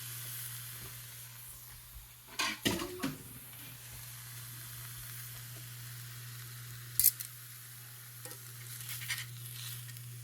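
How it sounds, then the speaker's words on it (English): Tuna searing in a dry, smoking pan on a Samsung NE63B8211SS induction range: a steady, close sizzle over a low electrical hum, with a few clattering scrapes early and brief clicks later. "Let's go ahead and start searing my tuna. I'm gonna put it in a dry pan"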